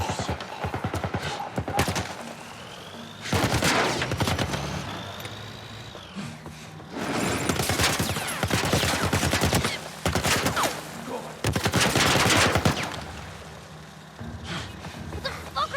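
Military turret gunfire in The Last of Us remake, with bursts of rapid, loud shots in repeated volleys separated by short pauses, heavy thuds and engine rumble beneath and a voice talking at times.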